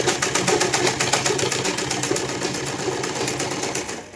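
Sewing machine running steadily while stitching a salwar, a fast continuous mechanical chatter of needle strokes, close and loud throughout with no talking.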